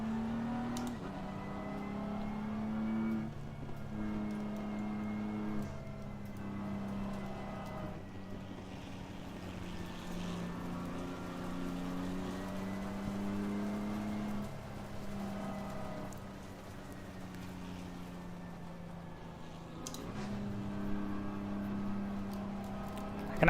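Race car engine idling along at low RPM in high gear in Assetto Corsa Competizione during a 70-minute Spa race, a steady low droning hum with slight pitch shifts, with faint talking at times.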